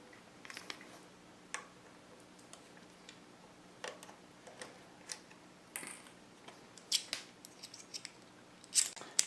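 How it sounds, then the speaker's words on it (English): A small Phillips screwdriver takes screws out of a PS2 Slim console, giving faint, sparse clicks and ticks of metal on plastic in an irregular rhythm in a quiet room. "And this is just a small Phillips screwdriver."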